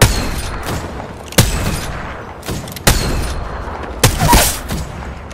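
Gunfire in the shooter game Apex Legends: several sharp, loud shots spaced a second or so apart over a rumbling battle background, with no talking.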